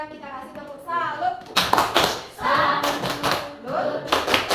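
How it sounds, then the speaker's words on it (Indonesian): A class of children claps a rhythmic 'tepuk salut' cheer, with bursts of patterned hand claps and voices chanting along together. "Kita kasih tepuk salut."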